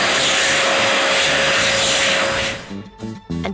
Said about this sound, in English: Did you hear the sound the hand dryer made? It was like an aeroplane taking off.